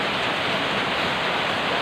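Heavy rain pours steadily during a storm, a dense, continuous hiss with no breaks and no voices over it.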